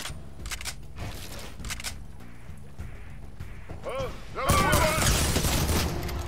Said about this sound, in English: They shoot through the wall!